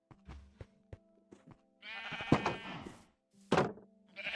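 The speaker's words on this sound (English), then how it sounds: "let's go and breed some sheep." Sheep bleat in Minecraft Legacy Console Edition, two loud wavering calls standing out after a run of short blocky game clicks and thuds.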